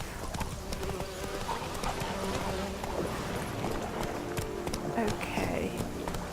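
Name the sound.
horse Roach galloping hooves in Witcher 3 video game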